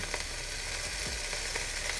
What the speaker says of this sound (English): Then we're going to just drop the veggies. Listen to that sizzle.